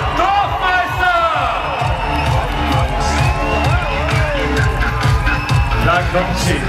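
A crowd cheers and claps for snowboarder Michaela Dorfmeister as she starts as forerunner at a parallel snowboarding event. The lively, continuous roar of the crowd carries shouts and whoops, and a voice talks loudly over it.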